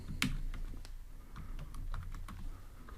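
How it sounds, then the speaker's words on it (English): Typing a title and description into a note app on a computer keyboard, with quick, light, uneven key clicks close by at a soft level and no talking. "Let's type title,"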